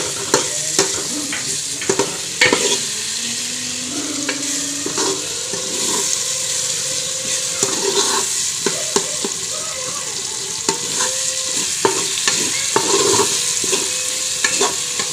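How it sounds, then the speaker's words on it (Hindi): Sliced green chilies stirred and fried in spiced ghee for shaljam, a continuous close sizzle with frequent sharp spoon scrapes and knocks against the pot, fairly loud throughout, with no speech. "और अभी हम इसमें हरी मिर्ची ऐड करेंगे जो हमने छोटे स्लाइसिस में काट ली है, अभी इसमें ऐड करेंगे और इसको भी भूनेंगे।"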